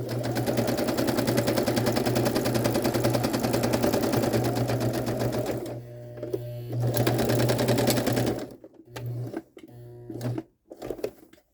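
A sewing machine stitches fabric in a loud, steady rapid whirr close by for most of the stretch, then stops and restarts in a few short bursts before falling silent.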